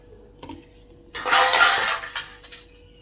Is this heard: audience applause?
no